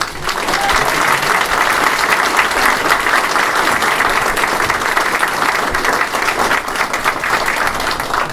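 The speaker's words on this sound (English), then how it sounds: "let's give them a round of applause" A large audience applauds a high school junior ROTC group at a political speech, loud, dense and steady clapping that fills the whole stretch without a break.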